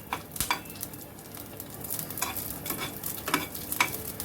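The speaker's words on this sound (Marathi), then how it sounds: "आपल्याला थोडीशी मिरची भाजून घ्यायची आहे" Green chillies roasting in a small amount of oil in a pan for raw mango thecha, a soft close sizzle broken by stirring scrapes and light clinks of a spatula, with no talk.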